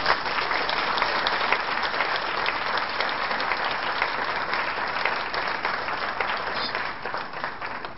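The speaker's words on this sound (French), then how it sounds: "vous applaudirez bien quand même" A crowd applauds steadily for several seconds, dense continuous clapping that slowly fades slightly toward the end, with no talking over it.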